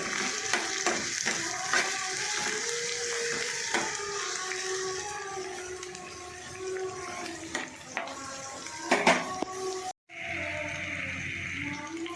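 Onions frying in a pan after sesame seeds have been toasted, giving a steady crackling sizzle with frequent scraping and clattering strokes of a stirring spoon, close by and with no talk.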